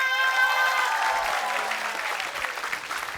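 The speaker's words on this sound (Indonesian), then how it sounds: "Aku sudah dapat pemenangnya, tepuk tangan dulu dong." Studio audience applauding a game-show winner, a dense wash of clapping that starts loud and gradually thins out over a few seconds, with a tonal music sting ringing over the start.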